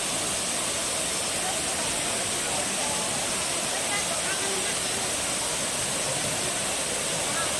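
Waterfalls on DingHu Mountain in China pour into small pools, a steady broad rushing hiss that holds constant throughout.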